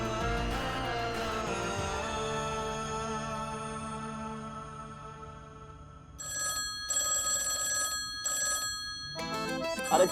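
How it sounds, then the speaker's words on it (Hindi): A telephone bell ringing in a home, repeated bursts of bright electric ringing that start and stop in a regular pattern, fairly faint and partly under music at first. "टेलीफोन बज रहा है, फोन उठाओ।"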